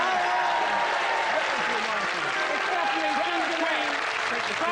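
A studio audience applauds steadily and loudly for contestant number three, Jeanette Muff, at a comedy show, with a voice talking over the clapping.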